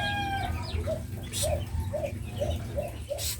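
A pure Peruvian rooster clucks in a steady series of short, close calls about twice a second, over low farmyard background noise.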